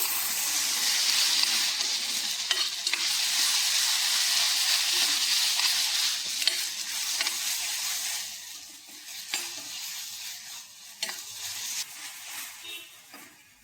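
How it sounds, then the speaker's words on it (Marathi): Onion and ginger-garlic paste fry in a pan for a fish fry, giving a steady, loud, broad sizzle that fades a little toward the end and is broken by faint stirring knocks. "पेस्ट छान फ्राय करून घ्यायची"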